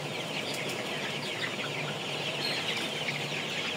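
Tiger chickens raised for meat cluck and chatter continuously in a dense, close flock, with overlapping calls and no speech.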